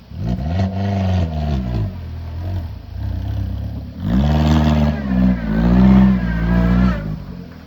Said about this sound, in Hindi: गाड़ी अपनी हमने फाइनली निकाल दी यहाँ से